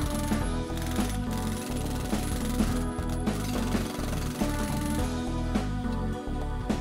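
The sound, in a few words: jackhammer breaking pavement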